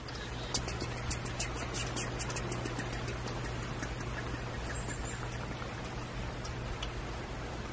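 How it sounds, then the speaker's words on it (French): Steady rain for ASMR pours continuously, a dense, close hiss with crisp individual drops pattering on a surface throughout and a low constant hum underneath. "le bruit de la pluie"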